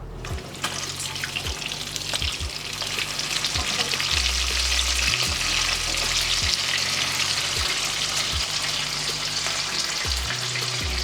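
Bacon frying in a pan, with dense, loud crackling and spitting fat that stays steady and close throughout and no speech.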